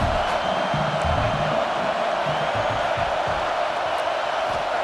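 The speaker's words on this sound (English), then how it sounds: "The roar of the crowd trying to fuel this defense to keep them pinned in their own end." A stadium crowd roars in the EA Sports College Football 26 video game, a loud, sustained wash of cheering that holds steady throughout.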